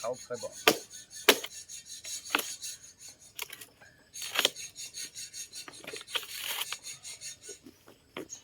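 Bamboo being chopped and split to make flattened bamboo panels, a series of sharp irregular chops and rasping scrapes, close and fairly loud, with quieter rubbing and pauses between strikes.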